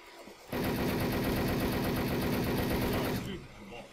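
A powerful gun fires in Wolf Team, one sustained rapid-fire burst of close, loud shots lasting nearly three seconds before it cuts off abruptly.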